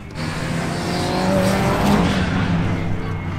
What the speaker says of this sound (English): That Evo sounds nasty.